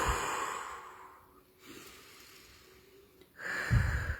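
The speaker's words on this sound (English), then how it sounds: "Deep breathing." A person takes slow, deep breaths, a soft airy inhale and exhale drawn out over a few seconds, close to the microphone with a stronger breath at the end.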